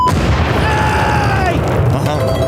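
A fireworks salute bursts with a loud boom at the onset, its roar sustained and rumbling beneath a steady dense wash, with a faint whistling tone sliding through the middle.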